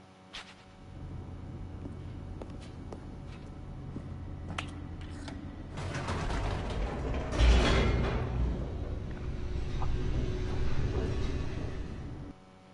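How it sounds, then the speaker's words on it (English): A descending elevator in the video game The Stanley Parable gives a steady mechanical rumble with creaks, louder toward the middle and end, then stops abruptly. "The elevator raced downward, plummeting towards an unknown fate."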